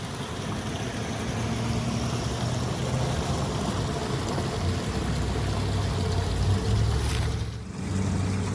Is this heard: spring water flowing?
yes